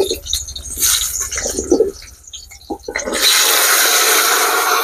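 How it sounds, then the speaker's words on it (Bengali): Cut potatoes, washed and dripping, are dropped into hot oil in a village kitchen, giving a loud, steady, close-up sizzle that swells and holds after a few seconds of scattered splashes and clatter. "এবার আলুগুলো তেলের মধ্যে দিয়ে লাল করে ভেজে নেব"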